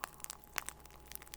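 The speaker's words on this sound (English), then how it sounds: "the actual sound was the snap, crackle, pop of a bowl of Rice Krispies" A bowl of Rice Krispies cereal gives off faint, close, irregular snaps, crackles and pops, a sparse scatter of tiny crisp clicks over near silence.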